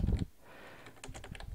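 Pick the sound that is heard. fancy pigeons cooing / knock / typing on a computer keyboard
typing on a computer keyboard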